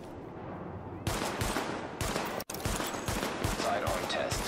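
Sidearm pistol gunfire at highlighted targets in The Division video game, a series of sharp, close shots in quick succession over a busy game soundscape.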